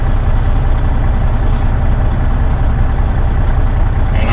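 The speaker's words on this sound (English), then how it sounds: "Set our air brakes." A truck idles loudly and steadily at close range, its heavy low engine rumble constant throughout.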